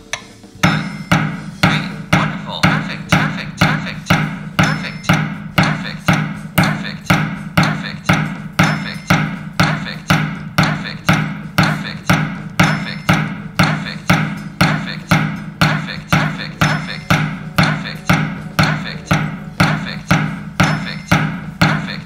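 A Korg Beatlab Mini metronome ticks out a steady eighth-note training pattern, about two sharp clicks per second, evenly spaced and alone with no voice over them.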